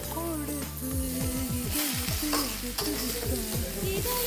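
Tomatoes fry in hot oil in a pan, giving a steady close sizzle with stirring scrapes throughout, while a voice speaks over it with a gliding, rising and falling pitch.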